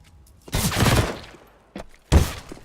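Gunfire in the tactical shooter CS:GO, a professional match on the Train map: a dense burst of shots, then a second shorter burst after a pause, loud and close with no talk over it.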